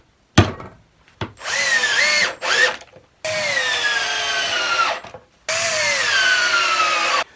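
A power drill pre-drills holes through wood while building a multi-purpose stool, with three loud sustained bursts of motor whine rising and falling in pitch under load, separated by short pauses and a brief clunk at the start.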